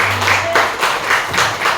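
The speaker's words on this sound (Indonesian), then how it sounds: "Tepuk tangan teman-teman." Students at an Islamic boarding school clap together in a loud, close burst of rhythmic group applause, with distinct waves of claps recurring through a short moment.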